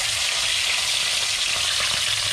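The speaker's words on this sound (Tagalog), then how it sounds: "Umpisa na po natin dahil mainit na yung mantika." Wild dove pieces fry in hot cooking oil with a loud, steady, close sizzle and crackle, broadband hiss running unbroken throughout, with no voices over it.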